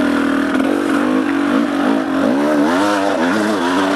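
A motorcycle engine revs up and down in rising and falling sweeps while climbing a rocky uphill trail, loud and close, with no talking over it.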